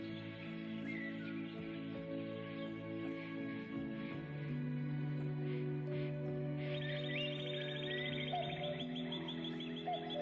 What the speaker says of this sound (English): There's a cuckoo bird again.